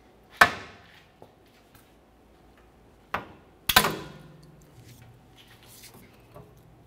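A pry bar works a differential seal out of the axle tube on a 2001-2005 Ford Explorer Sport Trac, giving a few sharp metallic knocks and clacks spaced seconds apart, close and clear with quiet between them.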